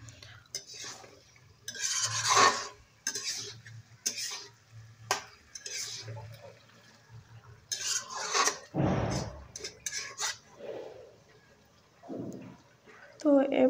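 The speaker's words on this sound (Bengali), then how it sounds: "ভেজে রাখা ফুলকপি, ওলকপি আর ফালি করা কাঁচা ঝাল দিয়ে দেব, দিয়ে মাংসের সাথে মিশিয়ে নিচ্ছি" Fried cauliflower, kohlrabi and sliced green chillies being stirred into chicken curry in a pot, with repeated scraping and clinking of a spoon against metal and a soft sizzle underneath, while a person talks over parts of it.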